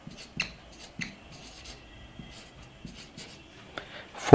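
Chalk or marker strokes on a classroom board during a physics lecture on semiconductors, giving soft scratchy taps and short scribbles in an irregular rhythm at moderate distance, with no voices.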